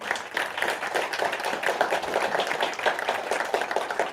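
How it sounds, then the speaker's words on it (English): A small meetup audience gives a round of clapping, sparse and uneven hand claps at moderate volume that continue for a few seconds. "Everybody give him a hand, some applause."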